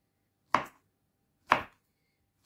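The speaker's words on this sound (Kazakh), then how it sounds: "Ең бірінші бананымызды турап аламыз" A knife chops through a banana on a board for a fruit salad, giving two crisp, close cuts about a second apart and the start of a third at the very end, with silence between them.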